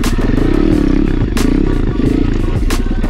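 Apollo pit bike engine revving hard during a wheelie, a loud, close, buzzing drone that rises and dips in pitch with a few sharp clatters, no talk.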